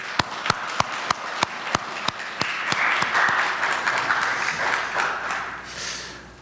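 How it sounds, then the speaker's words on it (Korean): A church congregation at a Thanksgiving Sunday service claps together, opening with a few sharp, evenly spaced claps that swell into a full, sustained round of applause before fading. "우리 모두 함께 큰 박수로 한번 영광을 돌렸으면 좋겠습니다"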